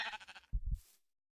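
Sheep bleat twice in a survival video game, a raspy nasal call followed by a shorter, lower one, close and fairly loud with no talk over them.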